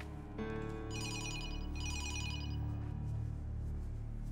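A telephone rings indoors in a Turkish drama scene: two bright electronic ring bursts sound over a low steady hum, moderately loud and close, with no voices.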